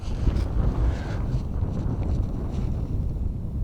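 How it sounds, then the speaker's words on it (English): Gusty wind roars across an Alaska hillside during a caribou hunt, a steady, loud buffeting rumble that batters the microphone for the whole stretch with no pause. "whatever wind's kicking up this is far from a calm"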